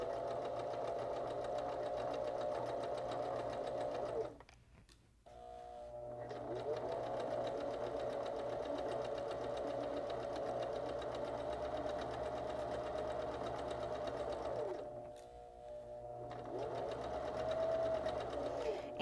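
A sewing machine stitching a blind hem runs in a steady whirring hum with rapid needle pulses, close and continuous, briefly stopping twice before starting again.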